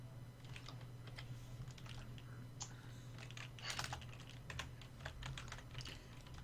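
Fast, steady clicking of computer keyboard keys during a tabletop role-playing game session, close and continuous, with bursts of quicker keystrokes and no talking.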